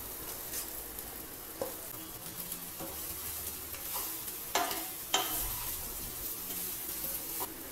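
Cooked rice being stirred into a garlic and chili mixture in a pan for garlic rice, a soft steady sizzle with scattered spoon scrapes and taps against the pan, no talking.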